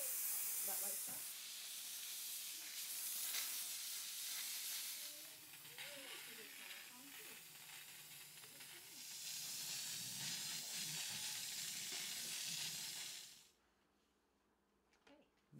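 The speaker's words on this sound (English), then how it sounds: "It's steam." A Sargent steam cleaner lets out loud, steady hissing steam in two long bursts separated by a softer stretch, then cuts off abruptly into near silence; a voice is faintly heard under it.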